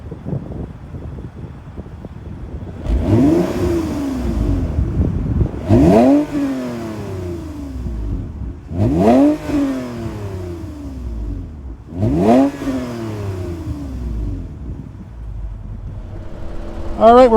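A 2023 Toyota Camry TRD with a naturally aspirated 3.5 liter V6 and 8-speed automatic is revved four times in a row, each sharp rise and fall heard up close, with faint wind noise between blips.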